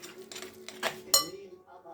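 Spoon or hand whisk stirring cookie dough with vanilla in a bowl, with a few soft scrapes and light clinks against the bowl, quiet and close, with faint background hum.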